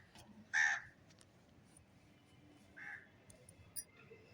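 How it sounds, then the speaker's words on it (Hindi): A crow caws outdoors at night, one loud, sharp caw, then a second softer call a couple of seconds later and a brief faint note after it, over a quiet, low background hiss. "रात में भी चिड़िया पक्षी उड़ रहे हैं"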